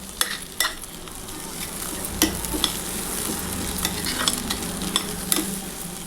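Noodles fry in a pan with a little oil until golden brown, a continuous close sizzle punctuated by repeated sharp scraping and clinking strokes of a spatula, fairly loud, with no voices.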